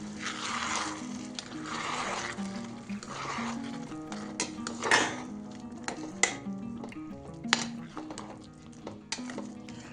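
Spice paste for fish curry is stirred in a pan with a utensil. A close, uneven run of scraping and clinking strikes against metal plays over a faint low sizzle, with a few louder knocks toward the end.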